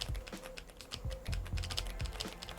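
Rapid typing on a Wooting 80HE magnetic-switch keyboard with clacky switches, a close, steady run of crisp keystrokes with sharp attacks and no deep thump, heard alone without any voice.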